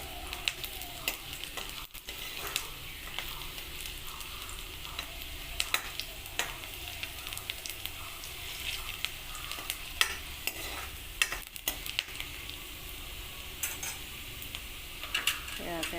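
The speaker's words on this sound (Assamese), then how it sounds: "এতিয়া মই তেলত পিঁয়াজ দিছোঁ।" Onions fry in hot oil with a continuous sizzle, while a utensil clinks and scrapes against the pan in irregular stirring knocks over about sixteen seconds, and no one speaks.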